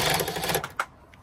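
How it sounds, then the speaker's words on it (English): A screw gun whirs in a rapid buzzing burst while driving screws into an aluminum gutter inside corner, loud and close, then cuts off to quiet. "And we're gonna put two more screws here, and we're almost done."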